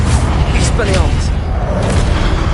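A spell blast fired in the Hogwarts Legacy duelling game booms with a deep, rumbling low impact that holds steady throughout, with a few brief whooshing accents layered over continuous loud game noise.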